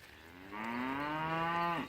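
A newborn calf, born that day and sired by an HPCA Surefire bull, gives a single drawn-out moo lasting over a second. The call is loud and close, rising slightly in pitch before cutting off, with no talk.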